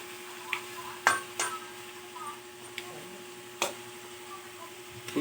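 Chili goes into a frying pan for a green papaya dish and is stirred, with a faint sizzle under scattered scraping clicks and taps of a utensil against the pan.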